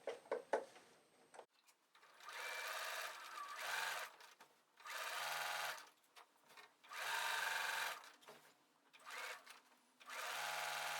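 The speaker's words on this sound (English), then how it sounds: "I'm just going to sew it from one edge to the other." A sewing machine stitches binding onto a scalloped quilt border in several bursts of fast, even needle chatter separated by short pauses, close and clear after a few soft handling clicks.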